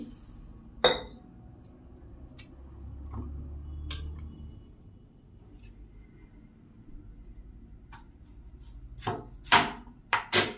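Knife slicing boiled potatoes in half on a board in a home kitchen, a few sharp separate taps and clinks scattered across the stretch, clustering near the end, with no talk.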